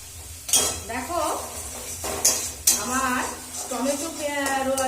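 A spice paste of onion, tomato and garlic is stirred and sautéed in a pan with clinks of a metal spoon against the cookware over a low sizzle. Someone talks throughout in Bengali.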